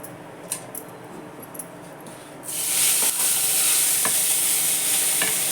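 A few light clinks, then a sudden loud sizzle bursts in as black pepper and cloves hit a spoonful of hot ghee in a wok and keep hissing steadily.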